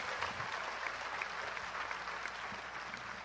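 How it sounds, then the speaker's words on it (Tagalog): Sustained applause from a large congregation at a religious healing service, dense steady clapping filling the space without a break. "Ang palakpak na iyon, O Diyos, ay alay naming lahat sa iyo."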